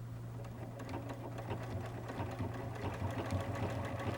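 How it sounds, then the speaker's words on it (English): A sewing machine running a steady straight stitch to attach appliqué to fabric for a windmill quilt, a continuous close mechanical hum with rapid even needle clatter throughout, no voices. "you can just watch that needle, make sure that that straight stitch is going to go on the fabric"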